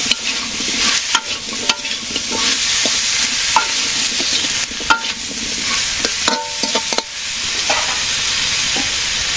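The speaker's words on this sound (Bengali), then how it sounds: "বেগুন দিয়ে একটু কষাবো" Eggplant stir-fried in a pan with fried potatoes in a village kitchen, a steady close sizzle broken by repeated scraping and clanking of a spatula against the pan, with no talk.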